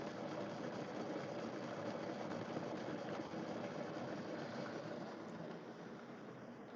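A rock tumbler spins while polishing rings, giving a steady, continuous mechanical hum and rumble at an even level with no talk.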